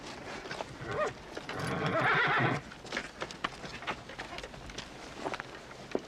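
Horses whinny in a loud burst, then hooves clip-clop in a loose, uneven rhythm close by, set in an American Western frontier scene with faint background noise.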